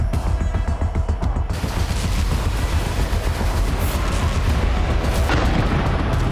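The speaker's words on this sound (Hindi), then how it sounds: "7:45 पर हुए धमाके का मंजर देखिए।" Dense, loud rumbling crackle of blasts and gunfire-like reports, sustained and distant-to-mid range, in news footage of an explosion that killed a Hezbollah commander in Lebanon; no talk.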